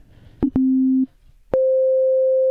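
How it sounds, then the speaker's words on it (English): Pure synthesizer sine wave tones, alone and steady: a low held note of about half a second, then after a short gap a higher sustained note that runs to the end, each beginning with a sharp click. "we'll start with just a sine wave"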